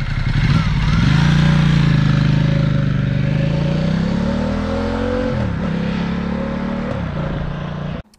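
A Ducati XDiavel motorcycle rides past close by, engine droning and shifting in pitch, then cuts off abruptly; no clear pops stand out.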